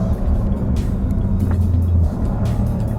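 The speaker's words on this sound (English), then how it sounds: "If you get that little like blip from the throttle when you downshift" A 2016 Smart Fortwo Brabus engine hums steadily up close, with a quick throttle blip on a downshift rising and falling midway through the low, continuous drone.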